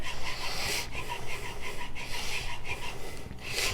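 ZDP189 knife steel is stroked back and forth across a Nano Hone synthetic sharpening stone, a close, steady rhythmic scraping with a short pause between passes.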